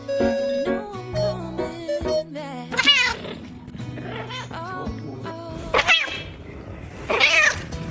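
A round, fluffy cat being petted lets out a string of loud, close meows and drawn-out yowls, rising and falling repeatedly over several seconds with no talking.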